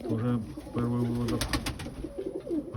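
Pigeons coo in low, throaty bursts close by in Boryspil, a few repeated calls with short pauses, alongside some nearby shuffling and a faint voice.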